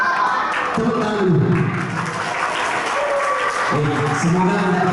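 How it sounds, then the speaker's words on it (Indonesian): Audience applause at a memorization contest between male and female Islamic boarding-school students in Makassar, a steady clapping wash filling the room while a voice talks over it. "tepuk tangan."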